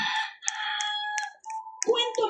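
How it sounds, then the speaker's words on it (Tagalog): Fighting cocks kept for cockfighting crowing and clucking close by, several overlapping calls with clicks, and a voice briefly audible underneath. "kwento ng kasamahan ni Ruel na si Andoy, sideline na raw talaga nilang magbitaw ng manok sa tuwing may sabong sa kanilang lugar"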